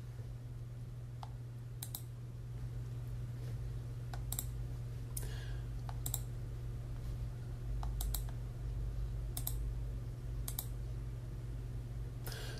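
Typing on a computer keyboard, scattered bursts of light key clicks over a steady low electrical hum, close and fairly quiet with no one speaking.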